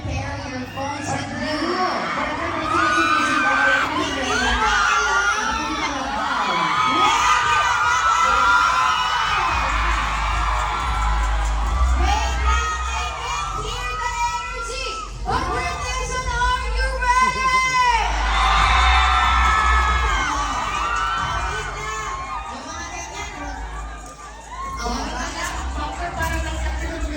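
A crowd at a year-end party shouts, whoops and cheers loudly and without letup, with excited voices yelling and talking over the roar.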